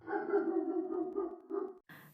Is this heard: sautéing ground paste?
no